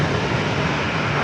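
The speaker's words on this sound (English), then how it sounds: "It's an E-175 Alaska Horizon flight 2488, rolling down runway 27." An Embraer E-175 Alaska Horizon regional jet rolls down runway 27 at San Diego airport on its takeoff run, heard as a brief, steady, broad engine roar.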